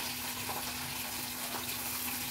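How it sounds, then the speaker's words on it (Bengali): Steady broadband rush of a small amount of water poured into a fish mixture with mustard, a continuous close splashing flow with no pauses. "এবার এতে সামান্য একটু জল দিতে হবে"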